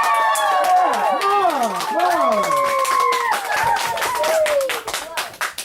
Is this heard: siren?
no